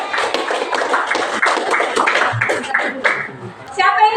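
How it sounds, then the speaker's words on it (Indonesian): Classroom applause for a student group, a burst of scattered claps from many hands that trails off, with light voices and chuckles around it. "beri tepuk tangan buat kelompok"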